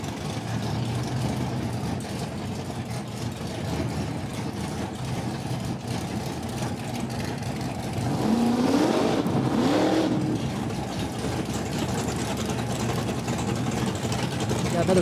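Drag racing at a no-prep event at Cordova Dragway, a '67 Camaro lined up against a Mopar: a steady, loud engine roar throughout, swelling with a couple of revving sweeps midway.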